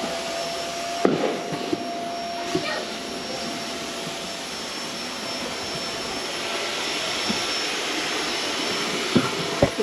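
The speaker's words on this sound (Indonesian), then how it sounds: "Sekarang kita vacuum kat dalam," A vacuum cleaner drones steadily and loudly while cleaning a car interior during a weekly car wash, a constant whooshing roar with occasional knocks and bumps of the nozzle.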